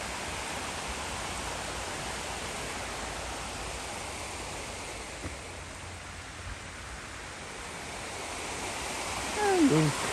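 A little creek at a city free campsite, its flowing water a steady broadband rush close by, with a brief faint bird chirp near the end.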